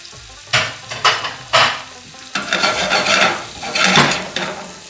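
Roughly chopped onion, sliced green chilies and coriander sautéing in a pan for butter chicken sauce, with bursts of sizzling as a utensil stirs and scrapes, the frying swelling in waves across the clip, close and fairly loud, no talking.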